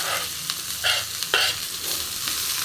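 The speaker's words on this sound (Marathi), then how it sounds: "याला व्यवस्थित फ्राय करून घेते" Onions frying in a pan for dry chicken sukka, a continuous close sizzle broken by a few sharp spatula scrapes and stirs; no speech.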